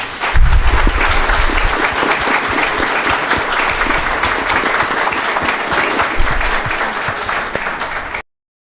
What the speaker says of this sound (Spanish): desearía por favor palmas para ellos dos